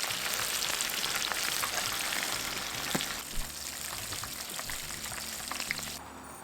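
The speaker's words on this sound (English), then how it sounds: "I'm gonna drop that in that oil" Lobster sizzling and frying in hot oil, a dense steady crackle and spatter that holds loud for several seconds before easing slightly near the end, with no talking.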